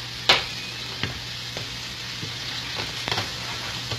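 Eggs frying in a pan give a steady sizzle, with a few sharp pops and clinks of a utensil rising above the hiss.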